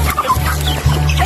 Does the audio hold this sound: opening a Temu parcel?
no